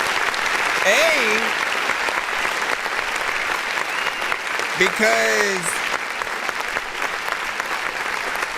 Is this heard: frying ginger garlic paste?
no